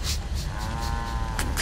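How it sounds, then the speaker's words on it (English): Cattle mooing in the video game Fallout 4, heard as drawn-out, wavering moos that carry on steadily at moderate volume over a noisy game background, with no talking. "Flying cows of the Commonwealth strike again."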